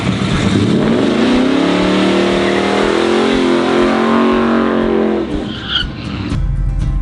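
A Dodge Charger EV in drag mode spins its tires, giving a loud, continuous squeal over a steady electric whine that rises in pitch, then fades into a short tail of road noise near the end.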